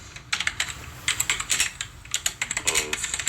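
Rapid typing on a computer keyboard, a steady run of close, crisp key clicks with uneven rhythm and a few louder strokes, heard alone with no talk.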